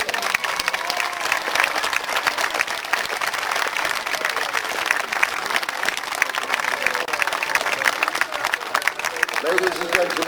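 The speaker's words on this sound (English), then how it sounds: "So ladies and gentlemen, please give them a big round of applause." Sustained audience applause at an outdoor history festival with soldier re-enactors, dense steady clapping from a large crowd for about ten seconds, close and loud, with faint voices underneath.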